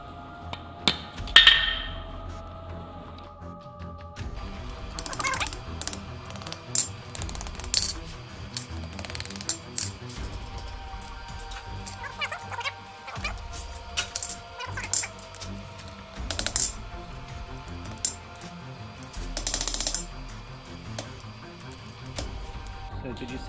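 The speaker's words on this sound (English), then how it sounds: "Did you see the hammering that I was doing there?" Blacksmith forging a penny end scroll, hammer blows ringing on an anvil in irregular bursts of sharp metallic strikes, close and loud, separated by quieter handling pauses.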